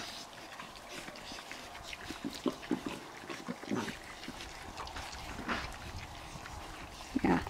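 Javelinas feed in a group with small babies among them, giving scattered grunts, snuffles and rustling chewing noises at close range, with brief louder bursts over a steady background.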